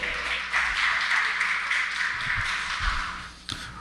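Applause from a seated audience at a morning education briefing in an auditorium, steady and close, with a sharp tap near the end.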